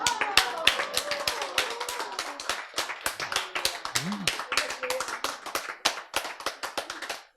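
Audience members at a health lecture clap their hands in a quick, sharp, fairly steady rhythm of many distinct claps, with voices speaking and calling out over the clapping.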